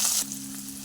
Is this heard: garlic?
yes